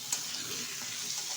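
Fried potato and pointed gourd being stirred into a poppy-seed spice paste in a pan, giving a soft steady sizzle with faint scraping, close and continuous with no talk.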